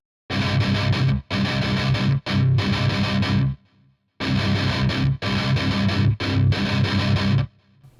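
Heavily distorted electric guitar chugs out a repeating strummed pattern from a song, loud close bursts separated by short gaps, with a brief pause midway before the pattern returns.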